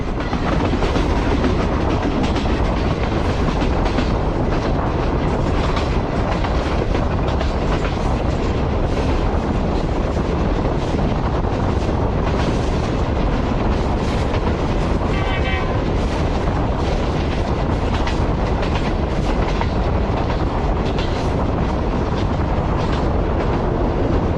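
A train rolls through Sohawa railway station with a loud, steady roar and rhythmic clickety-clack of wheels on rail joints, heard from aboard a guard compartment throughout.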